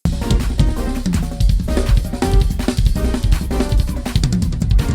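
A drum kit plays EJ Fanning's five-note grouping rudiment pattern. Fast, dense strokes run continuously over about five seconds, loud and close, with no talking.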